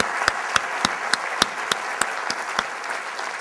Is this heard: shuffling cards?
no